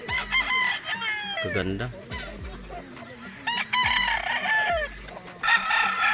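Sweater gamefowl roosters crow repeatedly at a game farm, loud and close with overlapping calls and clucks, while a person speaks briefly.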